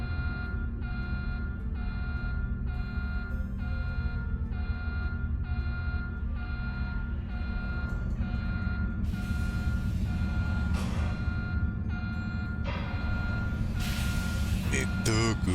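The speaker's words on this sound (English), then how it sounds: "let's get out of here before this alarm gives me a headache" An electronic alarm in Star Trek Online pulses in a steady repeating beep pattern, about one tone per second, loud and insistent, with bursts of other game noise layered over it toward the end.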